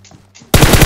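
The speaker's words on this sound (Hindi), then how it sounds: "हाथ में मशीन गन है, 150 की 150 तेरी छाती में भर देंगे।" Loud machine gun fire in a battle royale shooter, a fast rapid burst erupting after a quiet opening and continuing steadily to the end.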